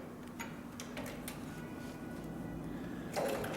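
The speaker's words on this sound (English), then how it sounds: "So I'm going to go ahead and insert this into the machine and we'll start sewing." Heavy-duty leather sewing machine slowly stitching three layers of 8 to 10 ounce tooling leather, a steady close mechanical hum with soft periodic clicks and a brief louder clatter near the end.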